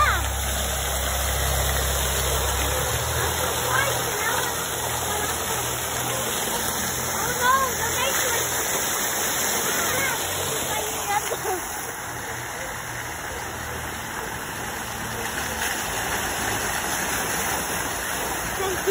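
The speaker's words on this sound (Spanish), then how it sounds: "Ah, el agua." Flowing water rushes steadily outdoors near trees, a broad continuous wash of a stream or small waterfall, with brief voices talking faintly over it.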